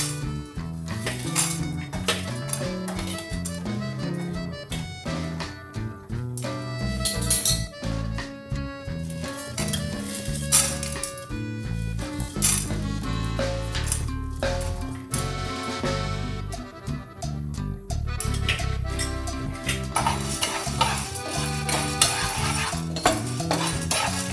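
Chana dal frying and being stirred in a pan on a gas stove, with steady scraping and clinking of a metal spoon against the pan running throughout and a faint sizzle underneath.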